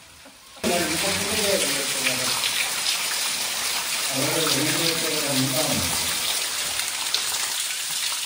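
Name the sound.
small waterfall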